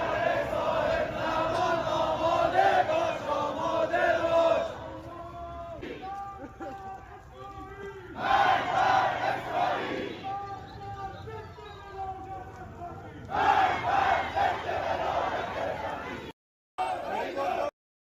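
Large crowd of men chanting in unison at a street march demanding revenge for an execution, loud rhythmic shouted phrases in repeated bursts separated by pauses with background crowd murmur.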